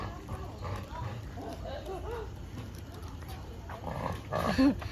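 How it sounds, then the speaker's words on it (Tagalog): A dog barks a few times in the background, mixed in with people talking nearby, with one louder bark near the end, at the Singapore Botanic Gardens. "Aso pala."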